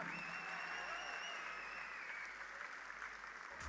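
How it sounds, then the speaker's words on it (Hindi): Award ceremony audience applauds continuously, a steady wash of clapping heard from a distance at modest level, with a brief bump near the end. "तो मैं आपकी जबरदस्त तालियों के बीच में इनवाइट करता हूँ कंपनी के founder and chairman doctor Ashok Bhatia जी को।"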